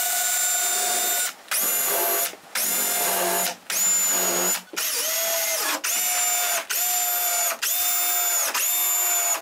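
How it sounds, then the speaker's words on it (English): A power screwdriver whirs in repeated bursts as screws drive a back panel onto a wooden pantry cabinet, about nine whining runs separated by short pauses, the pitch dropping as each screw seats, no talking. "After checking that this is really square, I can screw the back in place."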